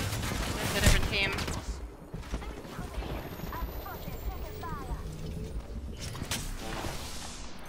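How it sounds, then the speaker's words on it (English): Gunfire in the video game Apex Legends, scattered shots and bursts amid busy game noise, with a loud crack near the start and a person talking over the action. "He's trying to shoot me through the window."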